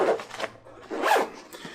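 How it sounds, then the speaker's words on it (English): Blue Force Gear waist pack being zipped closed: two quick, close zipper pulls with short rasping bursts, a brief pause between them and no talking. "Zipping this back up,"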